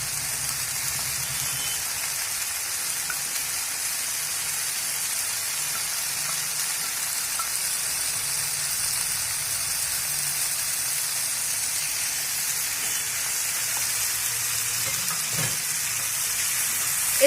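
Fried rohu fish head, tail and eggplant braise in oil in a pan, giving a soft, even hiss and gentle sizzle that holds steady throughout.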